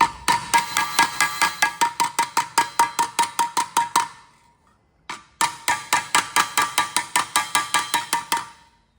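A hammer strikes a propeller blade again and again to flatten divots, ringing out in sharp metallic blows. The hits come evenly, about three per second, stop for a moment, then resume at the same pace. They are loud and close.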